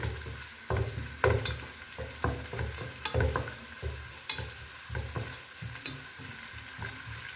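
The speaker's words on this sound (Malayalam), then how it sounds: "അപ്പം വെളുത്തുള്ളി, കടുവും ഇതെല്ലാം നമുക്ക് മൂത്ത് വരുന്നുണ്ട്" Garlic and mustard seeds fry in oil for a spicy mango pickle, crackling and sizzling under repeated scrapes and clinks of a spoon stirring in the pan.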